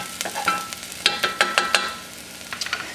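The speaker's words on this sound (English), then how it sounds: "Garlic's frying up pretty good." Garlic sizzles and crackles in a pot, with sharp irregular pops and spatters over a steady frying hiss, close up and fairly loud.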